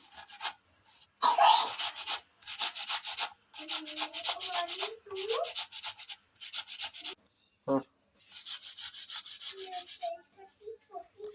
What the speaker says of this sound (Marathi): इकडं रवा पण भाजतीये आणि इकडं काकडी पण किसतीये